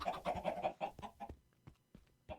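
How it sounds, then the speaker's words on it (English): Chickens clucking in the Minecraft video game, a quick run of several short, fairly loud clucks followed by sparser, fainter clucks. "That is a chicken down there, right?"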